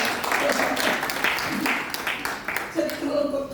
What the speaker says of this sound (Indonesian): Oh, beri tepuk tangan saudara.